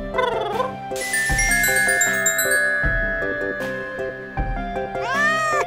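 A toy kitty in a toy playhouse meows repeatedly in bright, electronic-sounding calls, with chiming tones and tinkly toy music playing steadily underneath, close and fairly loud.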